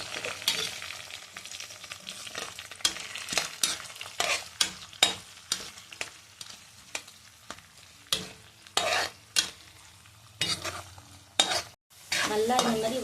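Spices tempering for Tamil Nadu style pongal sizzle and fry in a pan while a spoon stirs and scrapes them, giving repeated loud, close scraping strokes over a steady crackle.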